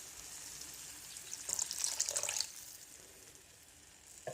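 Water poured into chicken gravy in a pan, a short splashing pour lasting about a second that rises, then fades into a soft simmering hiss, with a small clink at the end.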